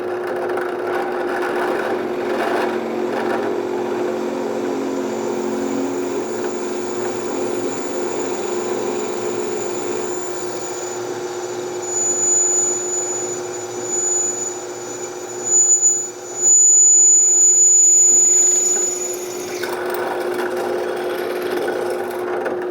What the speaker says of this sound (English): I'll drill them out on the drill press